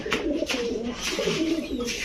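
A female breeding pigeon coos in low, throaty, repeated rolls, close by, with faint voices in the background.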